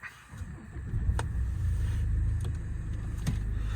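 A 2012 Jaguar XF 2.2d diesel starts from its keyless button: a brief quiet pause, then the engine catches and settles into a steady, close low idle rumble, with a few faint clicks and whirs from the cabin.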